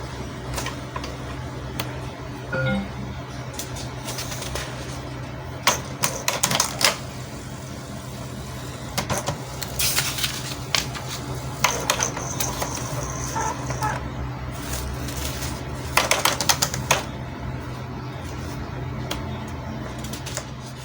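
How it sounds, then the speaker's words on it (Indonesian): Inkjet printer printing a page after a new cartridge and a replaced sensor, a steady mechanical hum under rhythmic clicking and whirring passes of the print head that repeat through the run, fairly quiet and close, with no talking. "sekarang kita coba buat print ya"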